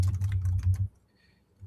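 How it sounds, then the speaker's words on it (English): Rapid clicking of keys on a computer keyboard, a short quick burst of typing lasting under a second before stopping, close and fairly clear with no voices. "if you're typing, it's extremely loud"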